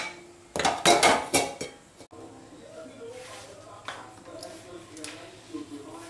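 Dhokla being turned out onto a plate, with a few loud metallic clanks and scrapes of the pan and plate up close, followed by quieter handling as someone talks.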